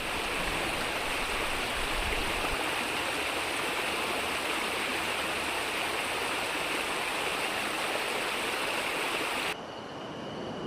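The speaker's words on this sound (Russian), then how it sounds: "Водопад красивый. Тут 4 русла аж в одном водопаде." Waterfall on a mountain stream in Altai, a constant loud rushing roar of falling water, steady and close, cutting off abruptly near the end.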